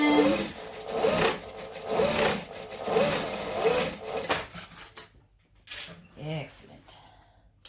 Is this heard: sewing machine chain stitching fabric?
yes